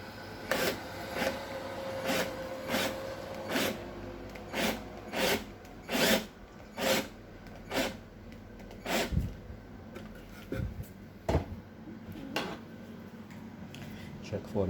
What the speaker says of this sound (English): So now we start drilling.